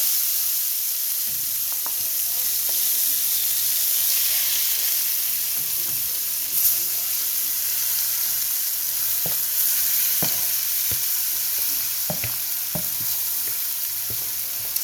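Shrimp and seasoning sizzle steadily in a hot pan for curried shrimp, a constant bright frying hiss broken by scattered scrapes and clicks of stirring.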